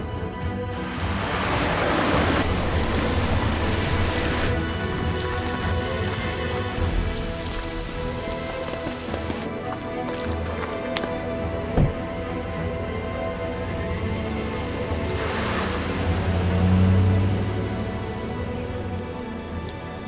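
Steady rain pours down onto surfaces, a dense continuous hiss of drops that stays loud throughout, with a brief thump partway through and no speech.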